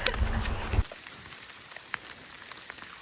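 Rain comes down during a mountain bike trip on the Great Divide route in stormy weather: a dense, loud patter at first, then quieter scattered drops tapping on surfaces.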